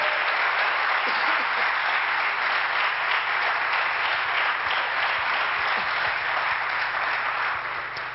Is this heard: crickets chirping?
no